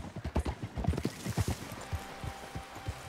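A wild red chestnut Arabian horse in Red Dead Redemption 2 clip-clops at an easy walk, hooves striking in a steady irregular rhythm, fairly quiet and with no speech.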